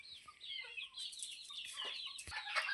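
Broody hens set on eggs cluck repeatedly at close range, a busy run of short throaty calls with no voices.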